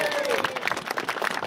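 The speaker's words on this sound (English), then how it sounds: "Can I please get a round of applause?" Dinner guests under the stars at Uluru clap as a group for their host and chef, a dense, steady wash of many hands with crowd murmur underneath.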